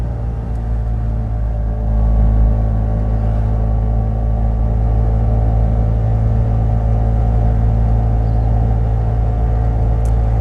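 A 1974 Daihatsu Fellow Max two-stroke kei car labours up Dyers Pass Road, its small engine droning steadily under heavy load with a loud, constant low buzz and rumble and no easing off.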